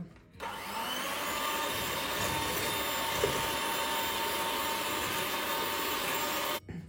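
Electric mixer beating egg yolks and sugar for a dried-fruit cake batter, a loud steady whirring drone that starts abruptly, runs unbroken for several seconds, then cuts off, with no voices.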